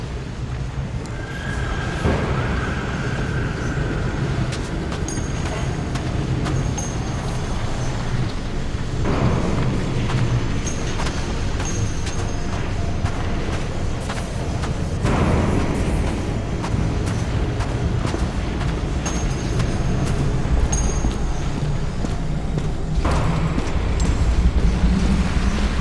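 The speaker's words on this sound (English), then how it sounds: "Powerful explosion. I think it derailed the train." A heavy rumbling train derailment after an explosion, from the game Nobody Wants to Die, fills the scene with continuous loud grinding roar and clattering surges.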